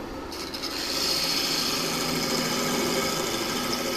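A wooden workpiece of mesquite being roughed down on a lathe with a cutting tool, giving a steady, continuous rasping scrape that stays loud and even throughout after a brief quieter start.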